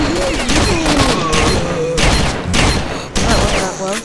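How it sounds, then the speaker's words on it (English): Repeated shotgun blasts in the shooter S.T.A.L.K.E.R.: Shadow of Chernobyl, a dense run of loud booming shots in quick succession, mixed with game noise and other gunfire throughout. "Shotgun rush."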